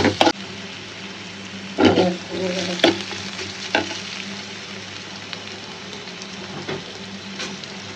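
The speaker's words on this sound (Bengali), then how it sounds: "আমাদের সব পেস্টটা ভাজা হয়ে গেছে মশলা দিয়ে দিই বেশি একটা ভাজবো না" Spice paste frying in a pan, a constant close sizzle punctuated by a handful of loud scraping, clanking stirs of a utensil against the metal, with a low hum underneath and no voices.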